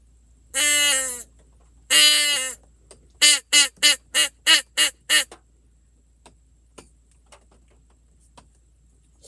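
Loud, harsh caws blown on a crow call imitating a young crow: two long drawn-out calls, then a rapid run of six short ones, followed by silence.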